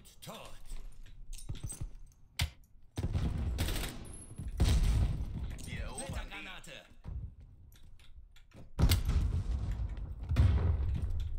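Bursts of assault rifle fire in the video game Call of Duty come in several loud, rapid volleys with short gaps between them, and someone talks over parts of the shooting.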